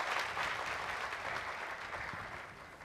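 A studio audience at a Turkish televised singing contest applauds a singer after his performance of a song, steady dense clapping filling the room throughout and tapering slightly at the end.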